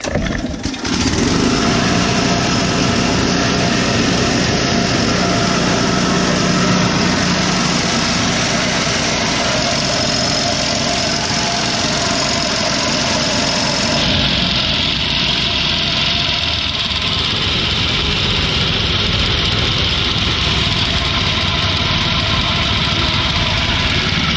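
A small gasoline sod cutter engine, fueled with fresh gas and with the choke off, runs loudly and steadily close by, a dense continuous rumble with a slight shift in tone partway through.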